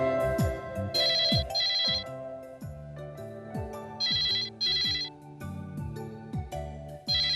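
Telephone left unanswered in a Hindi crime drama, its electronic ringtone chirping in repeated bright bursts over a busy background score, ringing on and on with no one picking up.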